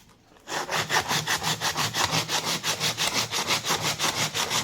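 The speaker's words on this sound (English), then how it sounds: "you can also sand this down" Sandpaper or a rasp working a wooden door jamb in quick, even back-and-forth strokes, a regular scratchy rhythm of about four strokes per second, close and loud after a brief quiet start, no voices.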